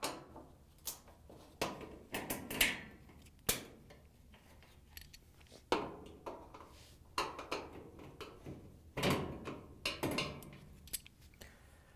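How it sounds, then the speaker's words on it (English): Screws and trim covers come off a Whirlpool, KitchenAid or Maytag oven door during a gas conversion, with scattered quiet metallic clicks, taps and small knocks from hand tools and plastic parts, close by in an otherwise hushed room. "On the other side of the door, we're going to take off the 2 screws and the covers."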